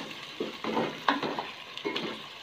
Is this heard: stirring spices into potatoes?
yes